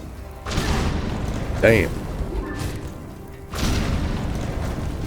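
Bomberman enemy blowing itself up in the Deep Docks area of Silksong, a booming game explosion with a crashing burst followed by another heavy blast, while someone speaks over it.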